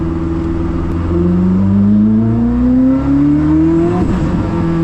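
Koenigsegg CC850 accelerating from inside the cabin, engine note climbing steadily in pitch as it pulls into turbo boost, loud and continuous with a rising whine toward the end.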